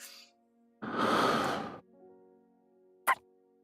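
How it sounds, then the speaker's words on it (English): Kiss noises in the Love and Deepspace video game: a soft, breathy exhale lasting about a second, then a short quiet pause and a single sharp lip-smack, intimate and close against faint background music. "Kiss noises."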